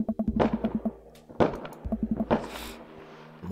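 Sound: fireworks boom in the video game Dream Daddy

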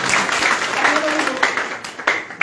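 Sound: audience applause welcoming new party members

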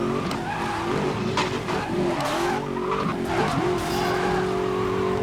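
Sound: Ford GT car skidding in video game Need for Speed Most Wanted

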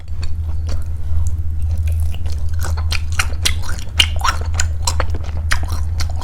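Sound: chewing gwamegi, dried herring and saury

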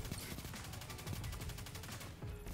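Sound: submachine gun firing in Destiny 2 video game

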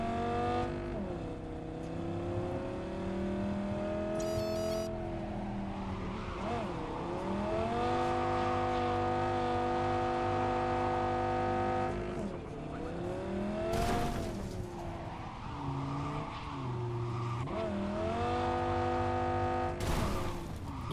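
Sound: car driving in the video game Cyberpunk 2077

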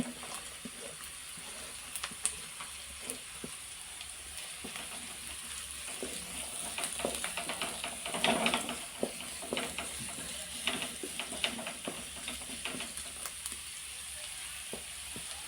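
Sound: stir-frying vegetables (carrots, beans) for fried rice

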